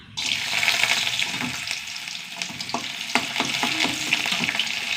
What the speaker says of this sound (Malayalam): കുറച്ച് എണ്ണ ഒഴിച്ചു കൊടുക്കും ഒരു ടീസ്പൂൺ ഉഴുന്ന് പരിപ്പ്